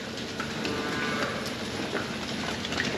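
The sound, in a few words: dairy cows mooing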